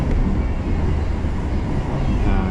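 Train on the Padang rail line running with a steady, loud rumble and rolling noise throughout, no clear talk over it.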